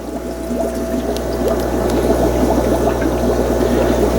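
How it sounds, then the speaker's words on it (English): Water gushes steadily from the outlet of a Pondmaster AP40 pond pump, a continuous close splashing rush with a low pump hum underneath. "the water's just cranking out of it"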